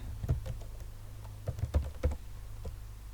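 Quick clusters of keystrokes on a computer keyboard while C++ code is entered, close and crisp, with short pauses between bursts.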